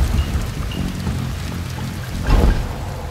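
Steady heavy rain falls in the stealth video game Shadow Tactics at Suganuma Village, a loud continuous wash with a rumbling swell like distant thunder near the end, no voices.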